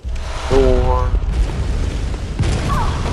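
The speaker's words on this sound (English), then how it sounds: "Got hit by the cannon." Cannon fire striking the player in the video game Bloodborne, a loud booming blast with a short tonal whine, then rumbling game ambience and a second heavy impact near the end.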